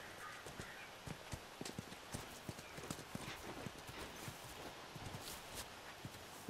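Horse hooves clip-clopping in the video game The Last of Us, a close, uneven run of sharp hoof knocks at a walking pace, with faint ambient noise behind and no talking.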